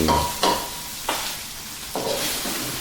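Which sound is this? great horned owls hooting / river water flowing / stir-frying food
stir-frying food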